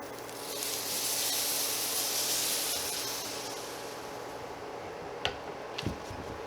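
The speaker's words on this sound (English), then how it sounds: "Our next step is we're going to add 2 cups of whole milk." Whole milk poured into a hot flour roux in a pan for sausage gravy, giving a loud broad sizzling hiss that swells, then slowly settles, with a couple of sharp clicks of a utensil near the end.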